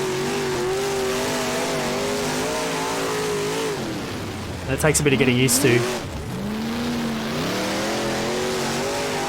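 Big-block race car engine in the rFactor racing game at Ohsweken, revving and droning steadily, with a sharper burst of engine noise midway as another car closes in from behind, while someone talks over it.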